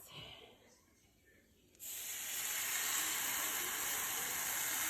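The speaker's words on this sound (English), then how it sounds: "So I'm done with blending the tomato sauce. Now we're just gonna dump it in our pot." Blended tomato sauce hits a hot pot for Mexican red rice and bursts into a loud, steady sizzle that holds evenly after a brief quieter moment at the start, with no voices over it.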